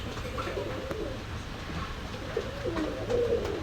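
Pakistani and local pigeons coo softly in low, throaty bursts, with a couple of calls rising toward the end over a quiet background hum.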